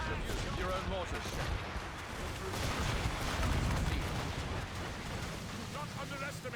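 Ships' mortars fire during a naval battle in the video game Assassin's Creed Rogue, a dense, continuous roar of booming blasts and rumble, with voices talking over it.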